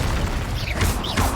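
Incendio fire spell cast in the Hogwarts Legacy video game, a loud roaring blast with crackling bursts and rumbling low end, sustained steadily across the moment without any talking.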